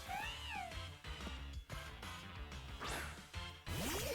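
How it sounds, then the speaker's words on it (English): Loud, aggressive cat meows in a Pokémon game rise and fall in repeated bursts over a dense, busy game soundtrack with crashing hits. "this cat is freaking aggressive"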